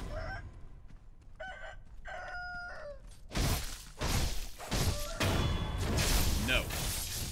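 A rooster crows in the video game Sekiro, a few rising calls with gaps at the start. Louder crashing game noise and a talking voice follow.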